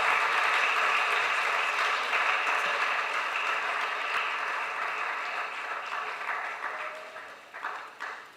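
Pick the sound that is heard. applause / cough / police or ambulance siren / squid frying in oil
applause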